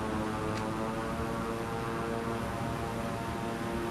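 A Beechcraft propeller engine runs at full throttle in Microsoft Flight Simulator, giving a loud, steady drone with a constant harmonic hum that holds unchanged throughout, with no talk.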